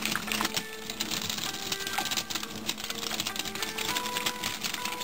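A hand whisk beats yum yum sauce made with mayonnaise in a bowl, giving a steady, fast, faint rattling patter that continues without pause.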